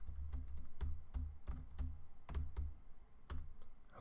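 Keys on a computer keyboard clack in quick, uneven bursts of distinct taps, close and fairly quiet.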